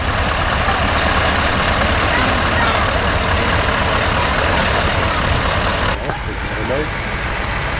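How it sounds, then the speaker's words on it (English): A convoy of trucks rolls along a dike in Lopik, Holland, producing a loud, dense engine roar and tyre rumble close by that eases slightly as one passes. "More trucks on the dike, I think so."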